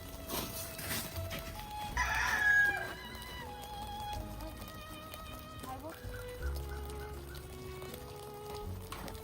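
Chickens and a rooster in a countryside cage on a snowy, icy day: a rooster crows loudly, hens cluck and squawk intermittently nearby, with a person talking over them.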